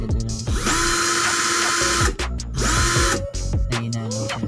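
A J.C.Kawasaki 18V cordless impact drill (model 2212C) runs in loud, close bursts, revving up to a high whine and spinning down three times in quick succession, with no talking.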